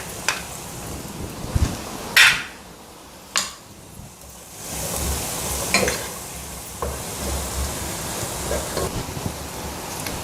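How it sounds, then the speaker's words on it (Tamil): Vegetable pasta with butter stirred in a pan, soft continuous sizzling broken by a few sharp scrapes and clinks of a utensil against the pan, close and fairly loud. "இப்போது இதில் பேலன்ஸ் இருக்கிற மீதம் இருக்கிற வெண்ணெயும் போட்டுக்கலாங்க."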